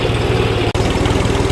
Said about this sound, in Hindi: अभी ना मैं ट्रैक्टर को चला रहा हूँ बिल्कुल जो सबसे कम RPM होते हैं ट्रैक्टर के, 770 पे चल रहा है।